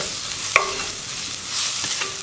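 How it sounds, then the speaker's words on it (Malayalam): Spices stirred in oil over a low flame for traditional rasam, a soft continuous sizzle with a sharp metallic tap of the spoon against the pan and gentle scraping strokes. "ഇതൊന്ന് ലോ ഫ്ലെയിമിൽ തന്നെ ഇട്ടിട്ട് ഇളക്കി കൊടുക്കുക"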